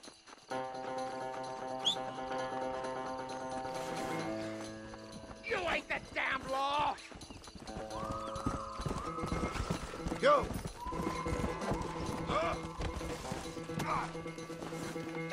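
Horse hooves clip-clop steadily in the Western video game Red Dead Redemption on PS3, mixed with game music, a whinny and a crash, while voices talk over the action.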